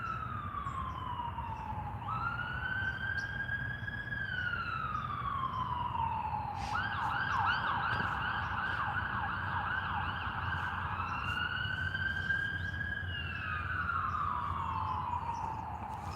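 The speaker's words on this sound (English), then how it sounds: "Comes the sirens." A wailing emergency siren rises and falls, switching briefly to a rapid yelp, heard at moderate distance over steady traffic rumble.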